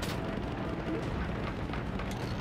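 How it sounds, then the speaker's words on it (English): Anti-aircraft flak guns in the video game Bomber Crew, heard as a dense, steady rumble of distant bursts with crackling noise that continues throughout without a break. "that's just anti-aircraft guns"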